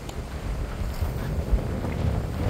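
Strong wind buffets the microphone outdoors at a tennis match, a continuous low rumble with gusts rising and falling and no talk.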